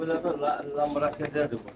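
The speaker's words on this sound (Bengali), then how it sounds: "তো কবুতরের ব্যাপারটা আপনারা শুনতেই পারতেছেন দেখতেই পারতেছেন" Pigeons coo in a loft of prized military-breed birds, soft throaty calls repeating in steady overlapping waves close by, with background voices murmuring under them.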